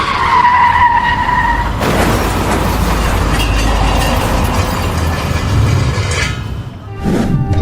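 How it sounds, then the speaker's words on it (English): Dashcam footage of a car braking hard and being rear-ended in a brake-check chain reaction: loud tire skidding and road rumble give way to a burst of impact noise, with a brief scrape near the end. "the dashcam driver stopped and was rear-ended"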